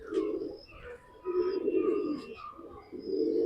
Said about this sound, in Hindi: आमिर भाई ये पी लखा कबूतर है मेरे पास